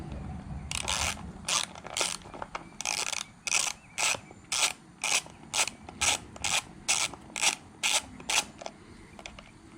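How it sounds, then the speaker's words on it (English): An 8mm socket wrench ratchets out a screw during cylinder fogging work on an engine, its pawl clicking in a steady run of rapid bursts, each stroke a short rasping ticking sequence, close and fairly quiet. "I can take a small 8mm screw, or socket rather, and go ahead and remove the screw"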